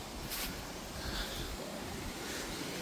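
A waterfall in a gorge makes a steady, fairly faint rushing wash of water that continues without a break and with no voices.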